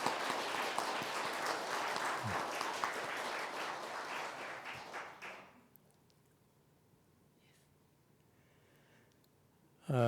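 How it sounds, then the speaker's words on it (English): An audience claps together to welcome a Buddhist monk at a Dharma service for a Buddhist broadcasting station, a dense, steady burst of applause that fades out about halfway, followed by near quiet and a brief thump at the end. "We need another clapping so they can record."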